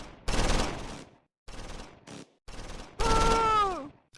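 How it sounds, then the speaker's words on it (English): Medium machine gun firing at German infantry in the open in Close Combat 4, Battle of the Bulge, with several short loud rattling bursts separated by brief pauses. "the medium machine gun, targets German infantry in the open."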